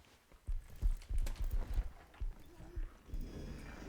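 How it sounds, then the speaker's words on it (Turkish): Footsteps approach in the horror game MiSide as a series of soft, uneven thuds over a low background, growing denser toward the end, with occasional faint voices. "Ayak sesleri geliyor."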